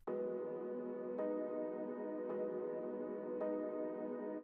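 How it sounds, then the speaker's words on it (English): A soft, dreamy piano layer from a music production project, sustained ringing chords re-struck about every second, smooth and atmospheric with no voices present. "So I have a layer here called Piano Dreamy"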